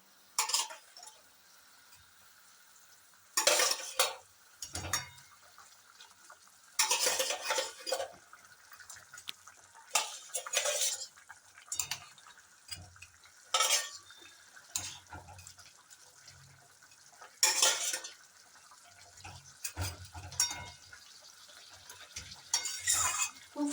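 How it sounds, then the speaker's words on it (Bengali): Rui fish pieces go into boiling kalia gravy in a pan and get stirred, with repeated bursts of scraping, clinking and wet splashing against a quiet simmer between them. "ঝোল ফুটে গেছে, এবার আমি মাছগুলো দিয়ে দেবো।"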